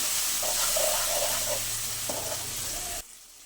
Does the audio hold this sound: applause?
no